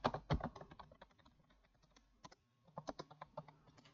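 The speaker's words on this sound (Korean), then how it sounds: "숫자 키패드 엔터 하시고" Single and clustered key presses on a computer keyboard, including Enter on the numeric keypad, sound as close, crisp clicks in quick bursts with short gaps, alone with no talk.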